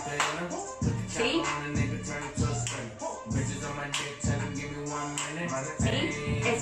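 Hand claps land in a steady rhythm on the beat of a hip hop track, about one sharp clap every second alongside the music, during a dance tutorial.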